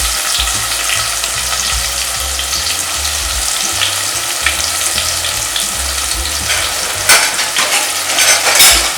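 Chunky-cut onions frying in a pan with turmeric and salt for a Tamil garlic kuzhambu, giving a loud, continuous close sizzle with occasional scraping and clinks of stirring toward the end.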